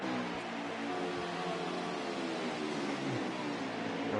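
Race cars in a NASCAR-style oval racing video game run three wide and slingshot past one another, a steady loud roar of engines that holds throughout with no talk.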